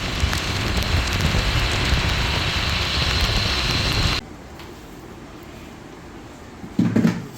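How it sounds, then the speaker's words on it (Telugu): Hard rain pours down in a loud, constant roar for about four seconds, then cuts off sharply to near-quiet, followed by a brief thump. "వర్షం ఎక్కడా తగ్గట్లేదు"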